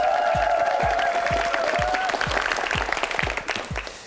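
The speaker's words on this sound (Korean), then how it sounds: "박수 주세요." Studio audience applause on a Korean KBS quiz show, a broad crowd clapping that starts loud and fades, while regular low thumps pulse underneath like a beat, with a sustained tone early on.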